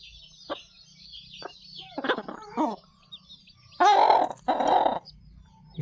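Newly hatched chicks peep softly and repeatedly while a country hen nearby gives low clucks, then two louder, drawn-out clucking calls near the end.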